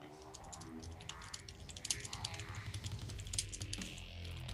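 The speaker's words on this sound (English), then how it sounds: "I hear Omega typing right now." Computer keyboard keys clatter in quick, uneven bursts during an online Blacklight Retribution multiplayer match, with faint game sounds mixed underneath.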